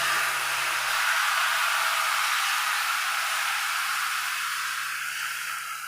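Rice flour batter hits a well-heated pan with a steady, loud, broad hiss that holds evenly and then fades slightly toward the end.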